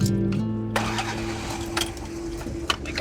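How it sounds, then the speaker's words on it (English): Car engines start up one after another inside an enclosed Channel Tunnel shuttle train carriage, a loud sustained low rumble with idling and brief revving that echoes in the confined metal space. "people are turning on the engines"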